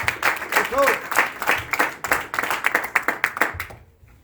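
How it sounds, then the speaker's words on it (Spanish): A church congregation claps together in praise, a dense run of hand claps with voices mixed in that fades abruptly to quiet near the end. "Den un aplauso al Señor"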